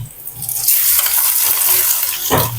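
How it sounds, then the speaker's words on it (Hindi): Ginger-garlic paste frying in a pan with browned onions, making a loud, continuous sizzle while it is stirred, with a brief scrape of the spoon near the end. "अब इसमें डाल देंगे अदरक और लहसुन का पेस्ट।"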